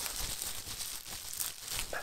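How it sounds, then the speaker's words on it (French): Close, continuous crinkling of bubble wrap being handled, with soft crackles throughout. "Désolé pour le bruit du papier à bulles."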